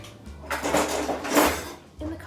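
Metal cutlery clatters and scrapes as someone rummages through a kitchen cutlery drawer looking for a rolling pin, two swelling bursts of rattling over faint background noise, no talk.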